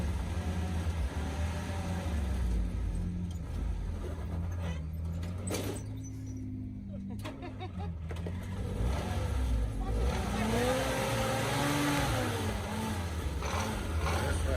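A Jeep crawls up a rocky slope on the Shedder Trail in Logandale, Nevada, its engine droning low with shifting revs that rise and fall, plus brief scrapes, while voices talk over it.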